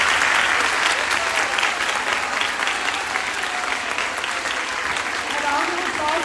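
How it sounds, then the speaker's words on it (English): Loud, dense applause from an audience at a grooming and makeup masterclass, sustained clapping for a makeup model with crowd voices and a cheer or two mixed in, steady from start to finish. "A round of applause for Shejal for being so flexible"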